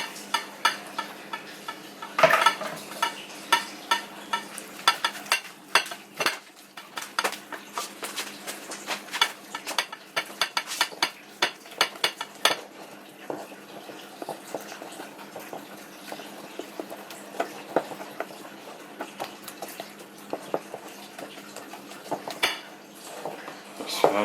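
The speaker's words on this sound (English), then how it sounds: "And I just mix it." A spoon stirs and mixes food with a little honey in a pot during Thanksgiving cooking prep, giving repeated close clinks and scrapes against metal in an irregular rhythm over a quiet kitchen background.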